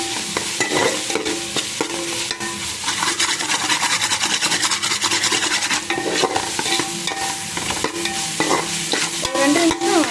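Biryani ingredients are stirred and sautéed in a hot pan, giving a loud, continuous sizzle with repeated scraping and rubbing strokes of a spoon against the metal, and no voices.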